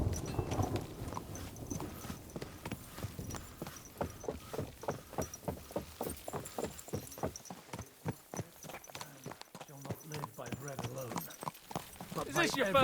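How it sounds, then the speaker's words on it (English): A horse's hooves clip-clop in a steady walking rhythm as it is ridden in Kingdom Come: Deliverance II, a long regular run of close, crisp hoofbeats with a voice talking at the start. "Is this your first time riding a horse"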